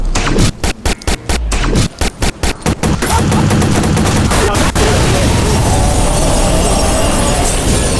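Loud gunfire in Watch Dogs: a rapid string of sharp separate shots for the first few seconds, then dense sustained automatic fire and chaotic combat noise filling the rest.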